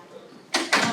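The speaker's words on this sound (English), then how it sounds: "I'll close this door so we can hear." Classroom door sliding and closing, two close broadband whooshing bursts in quick succession after a quiet moment.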